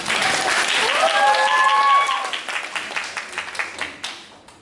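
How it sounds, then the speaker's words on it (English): An audience at a school drama production applauds loudly, with brief whistles or cheers early on, then the clapping thins into scattered individual claps before dying away. "Give her an applause."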